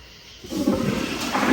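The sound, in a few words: Kohler Kingston 1.6gpf toilet flushing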